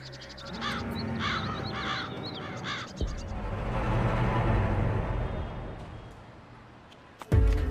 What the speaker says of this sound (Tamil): இந்த காக்காங்க வேணும்.